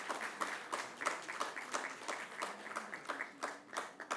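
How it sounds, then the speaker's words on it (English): An audience at a children's radio awards ceremony in India applauds the winners with a quiet, steady wash of hand claps, a few individual claps standing out, heard from some distance. "Let's give a huge round of applause to them as well."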